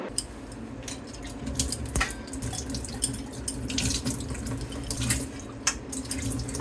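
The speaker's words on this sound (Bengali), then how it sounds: "ঠাকুরের বাসন মেজেই রাখা থাকে তবু একটু ধুয়ে নিলাম" Puja utensils are rinsed under a running household tap during evening worship on Shivaratri: a steady close stream of water splashing into a sink, with occasional faint clinks of metal vessels and no talking.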